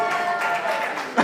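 A conference audience applauds a speaker, with steady, dense clapping from a crowd that holds at a constant level throughout, with a brief louder burst near the end.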